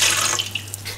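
About 400 ml of warm water pours for bread dough, a brief, close splashing stream that is loudest at the start and then thins into lighter trickling and drips.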